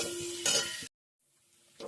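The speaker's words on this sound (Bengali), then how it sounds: "এটাকেও আমরা ভালো করে ভেজে নেবো পেঁয়াজটাকে" Chopped onions fry in oil with close sizzling and scraping stirs, broken by a short silent gap before the frying sound returns.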